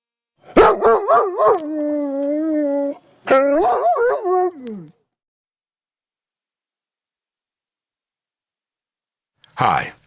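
A voice actor imitates a dog, yelping, whining and howling in a run of short and drawn-out cries, then falls silent before a brief final burst.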